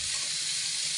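Mushrooms grilling on a home stove give off a steady, loud, close sizzle with a dense hiss that holds evenly from start to end.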